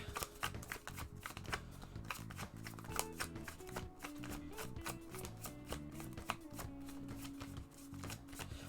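Tarot cards are shuffled in rapid, crisp riffles and taps, close and steady throughout with no talking, some faint background tone underneath.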